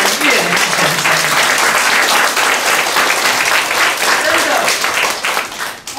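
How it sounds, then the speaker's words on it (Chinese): Sustained, loud applause from a lecture audience fills the whole stretch, dense even clapping that thins slightly near the end, with a brief voice at the close. "你掌声拍得越大声"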